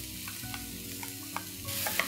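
Tomatoes and chopped cashew nuts sauté in a pan with a soft, steady sizzle, broken by a few light stirring scrapes and taps. The frying sound is close and fairly quiet, and it swells slightly toward the end.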